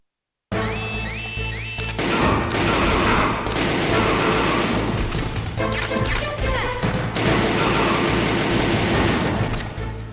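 Gunfire and crashing impacts from an action video game, with loud, dense bursts of shots and smashes rolling continuously over a music bed.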